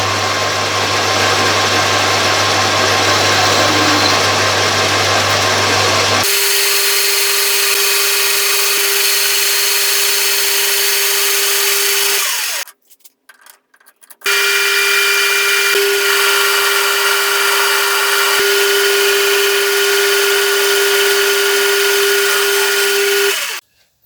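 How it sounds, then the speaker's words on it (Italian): A metal lathe turns a workpiece down to 25 mm for a DIY broaching tool, giving a loud steady machine hum with a sustained tone that cuts out briefly midway, then resumes and runs steadily. "vado già a tornire l'ultimo pezzettino, l'ultimo spezzone a 25 mm"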